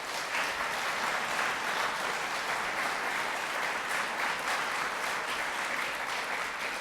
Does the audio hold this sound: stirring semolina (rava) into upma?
no